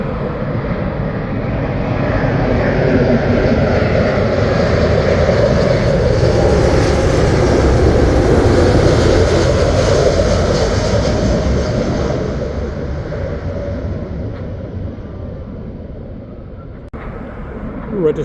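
A Boeing 777 jet descends to land at Heathrow Airport, a broad roaring rumble that swells to a peak and then slowly recedes.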